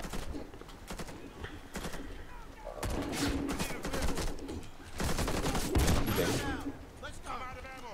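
Gunfire in the co-op shooter game Warface, with rapid bursts of automatic weapons and scattered shots mixed with game effects, loud and continuous, under a player talking.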